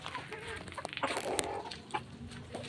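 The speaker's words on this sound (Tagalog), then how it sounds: "Ngayon naman kukunin ko si Chinese chicken." Backyard chickens cluck in short, irregular bursts close by, the soft calls scattered across a quiet yard with no talking.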